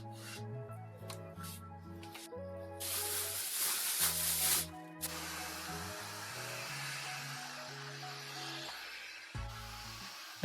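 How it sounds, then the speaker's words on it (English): A heat gun blows a steady broadband hiss for a few seconds as it dries glue on a mid-century modern sideboard being restored, loud and close, then cuts off while background music continues. "I used my heat gun to speed up the process"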